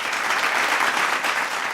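A crowd at a religious speech gathering applauds with steady, sustained clapping at moderate loudness, evenly spread across the brief moment with no voices on top.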